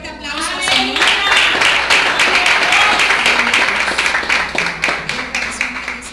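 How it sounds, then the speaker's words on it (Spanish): Congregation applauding during a Thursday healing and miracles church service, a dense, loud wash of clapping lasting several seconds with voices and some music tones mixed underneath. "Damos un fuerte aplauso al Señor."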